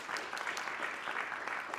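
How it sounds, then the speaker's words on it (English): An audience at a professional planning institute event in Vancouver applauds its three speakers, a brief, even wash of crowd clapping at moderate-to-low level with no talk over it. "Can we have a big round of applause for our three speakers, Timothy, Ian, and Johannes?"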